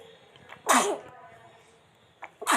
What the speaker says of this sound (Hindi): छींक आई।